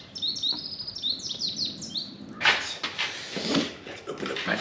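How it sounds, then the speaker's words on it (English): Bright, rapid chirping song of a goldfinch outdoors, a run of quick high notes that gives way to scuffing and knocking from nearby work. "Ooh, a goldfinch. Oh, it's pretty."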